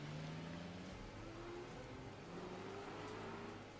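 A Transformer in vehicle mode drives in the video game Transformers Devastation, its faint engine droning steadily with shifting pitch under a low, continuous rumble.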